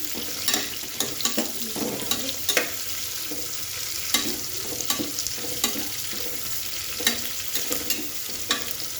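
Sliced onions sizzle and fry in a pan for lemon rice, a continuous crackling hiss broken by repeated scraping stirs, close up with no voices.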